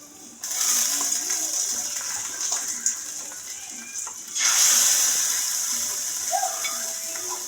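Buttermilk poured into a hot mustard-seed and red-chilli tempering for a green-banana curd curry, bursting into a loud hissing sizzle that swells sharply and keeps spitting steadily, with no talking.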